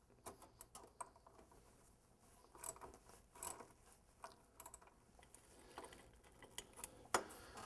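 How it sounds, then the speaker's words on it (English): A puller drawing a power steering pump pulley off its shaft, heard as faint, irregular mechanical clicks and ratcheting ticks over a low background for several seconds, with no talking. "we want to go ahead and take the pulley off."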